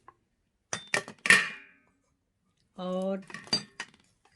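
A metal spoon clinks against a dish while cumin seeds are added for a home remedy, a few quick bright taps close up, then someone speaks briefly in Hindi before more light clinks.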